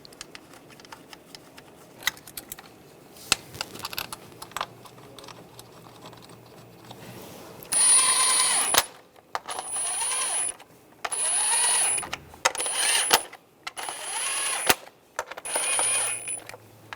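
A ratchet clicks in several short bursts while starting valve cover bolts on a 2001-2006 BMW 325Xi, close and fairly quiet, with light metallic handling sounds between runs and no talk.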